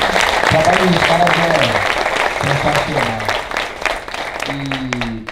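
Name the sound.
audience applause for the Creative team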